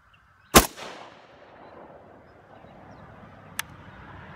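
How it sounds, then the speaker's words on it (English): A Russian SVT-40 semi-automatic rifle fires one loud, sharp shot up close, followed by a long rolling echo, then a much fainter second crack a few seconds later. "let's go ahead and take a couple shots and see where we land."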